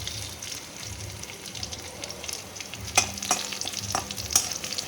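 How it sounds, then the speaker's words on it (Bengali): Home-grown garden greens with garlic and chilli fry in a pan, a soft steady sizzle close by with a few sharp stirring clicks and spatters toward the end, no voices. "আমার বাগানের শাক, রসুন আর লঙ্কা দিয়ে এটা একটু ভাজা করে নেব।"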